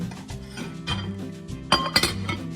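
A lid clatters back onto a container of cooking quinoa with a few sharp clinks, close by, over a low steady hum.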